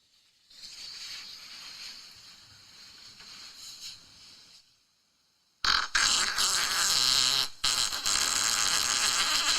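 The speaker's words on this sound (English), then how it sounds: "He sends me all these farts." Recorded fart sounds play back, first a long thin buzzing squeak, then after a short silence a louder, rougher blast with a brief break midway, all fairly close with no talk.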